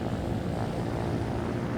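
A helicopter's rotor and engine in the building game Trailmakers give a steady low droning whir, constant and moderately loud, with no talk over it.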